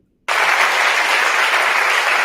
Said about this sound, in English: She gets applause.